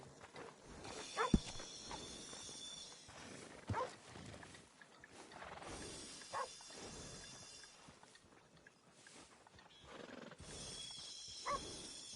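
Video game horse near a stable, with several short whinnies and snorts spread over a steady ambient bed, faint and somewhat distant, alongside occasional hoof-like steps and no talking.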